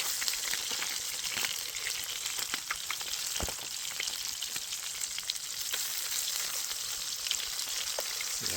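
Food frying in lard in a pan on a Trangia 27 camping stove gives a steady, close hiss with scattered pops and spits, with no voices over it.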